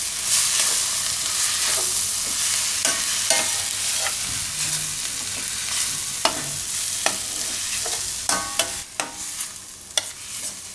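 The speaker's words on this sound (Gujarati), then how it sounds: "અને મિક્સ કરી લઉં આમાં." Paneer bhurji fried rice stirred in a pan over a low gas flame, with a steady sizzle under repeated spatula scrapes and clicks that grow sharper and more frequent toward the end.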